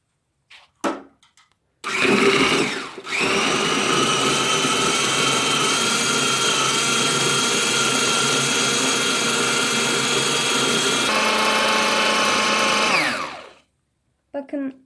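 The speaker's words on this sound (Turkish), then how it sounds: "Şimdi yavaş yavaş mikserle çırpmaya başlayacağız." Loud, steady electric mixer whipping cream with water to make homemade butter, whirring continuously for about ten seconds, with brief clatter before it starts and after it stops.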